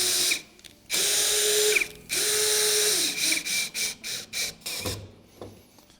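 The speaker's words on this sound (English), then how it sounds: "Once we have it, we can screw it definitively." A power screwdriver driving a screw into a screw step on a ventilated roof, with long whirring runs followed by several short bursts as the screw is seated, close and loud.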